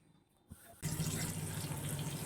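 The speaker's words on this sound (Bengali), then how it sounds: "এই যে হাত ধুয়ে নিলাম" Water runs steadily from a kitchen tap as hands are washed at the sink, a close, continuous rushing stream that starts abruptly after a brief clunk and keeps going.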